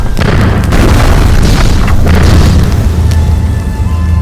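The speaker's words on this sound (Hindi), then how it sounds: "गोलों की आवाज से पूरा जंगल कांपने लगा और वातावरण भयावह हो गया।" Heavy cannons fire in a forest, their explosions merging into a continuous, loud, booming rumble with sharp blasts throughout and no voices.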